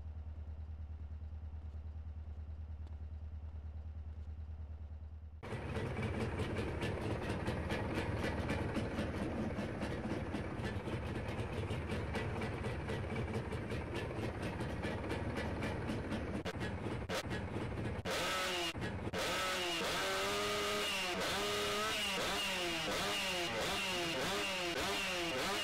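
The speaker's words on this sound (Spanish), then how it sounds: "No saben lo que suena el escape a la moto" Gray Yamaha Calimatic 175 motorcycle set up for stunts, its engine and exhaust starting after a quiet idle-like hum and running loud and close with a rough, clattering roar, then revving up and down in repeated surges near the end.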